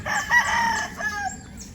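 Young chickens bred from breeder gamefowl cluck and a rooster crows nearby, a short burst of overlapping fowl calls.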